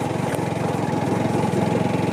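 A motorcycle engine labours on a rough, dangerous off-road trail toward Letang, a close, steady, throbbing mid-pitched drone with a rapid pulsing beat and no voices.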